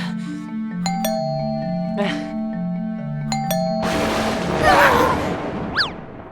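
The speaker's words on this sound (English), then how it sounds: "That doorbell woke me up from my evening nap." A two-tone doorbell chime rings out twice, clear and fairly loud, followed by a burst of rushing rain or water noise and a brief squeak.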